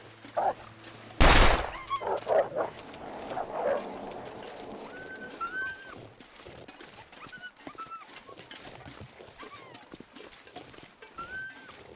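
A single loud, sharp flare gun shot fired at a wolf in The Long Dark, a wintry survival game, followed by scattered game sounds and ambient noise over the remaining seconds.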